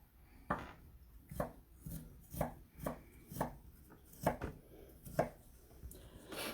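A knife chops ginger on a cutting board for pot stickers, about a dozen crisp, evenly spaced taps, close and quiet, with no voices.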